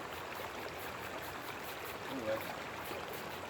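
Steady broadband rush of water flowing in Cold Creek, a mountain tributary of Clear Creek in Colorado, continuous and close, with a brief spoken word over it.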